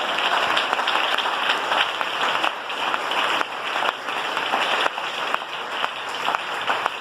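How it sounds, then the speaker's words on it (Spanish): Church congregation clapping in praise during a Spanish-language sermon, a steady wash of many hands, moderately loud and continuous, with rhythmic accents standing out through the crowd. "¡Se aplauso para él esta mañana!"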